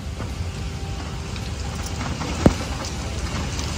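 Steady rainfall outdoors near Kedarnath, a constant wash of drops on surfaces at moderate level, with one sharp tap partway through and no talking.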